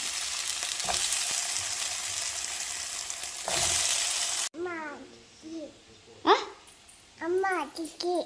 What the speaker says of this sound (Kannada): ಇಲ್ಲೇ ಆಲೂಗಡ್ಡೆ ಪಲ್ಯ ಮಾಡೋಣ ಅಂತ ಇಟ್ಟೀನಿ